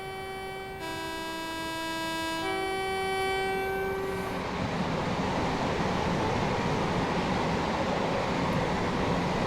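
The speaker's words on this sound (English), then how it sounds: "Just wanted to be quiet to watch the train go past there" A Class 375 Electrostar train on the Chatham Main Line in Train Simulator 2016 first sounds a sustained two-tone horn, then rushes past close by with a loud, steady roar of wheels and motors.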